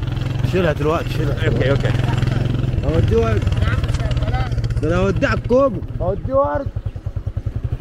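Motorcycle ride in Egypt heard from the back seat, a steady close engine drone running throughout while people talk over it.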